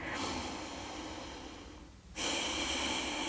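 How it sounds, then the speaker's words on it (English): A person breathes deeply and slowly while resting in a pigeon yoga pose, a long, soft, airy exhale followed by a brief pause and then a steady inhale, close and alone. "just breathing here"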